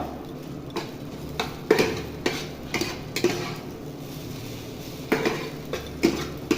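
Utensil scraping and clinking against a pan in irregular strokes as fried eggplant is mixed with fried neem leaves, with a faint sizzle underneath and no talking.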